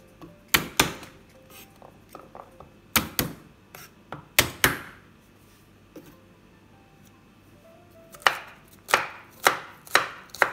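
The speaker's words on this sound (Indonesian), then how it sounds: "Bawang putih, bawang merah dicincang." Sharp knife chopping garlic and shallots on a board for nasi goreng, in quick bursts of crisp thuds separated by short pauses, close and clear with no talking.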